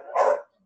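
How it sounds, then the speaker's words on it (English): A pet dog gives one short, loud bark close by, reacting to neighbours coming home, with silence right after. "they keep barking at things"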